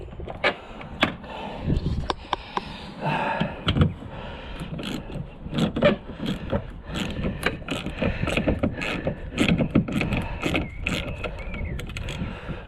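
A 13mm socket ratchet undoes a nut on a 2003 Volvo XC90 while fitting a door mirror. Quick bursts of close, sharp clicks repeat through the clip over faint mechanical rattling, with no voices.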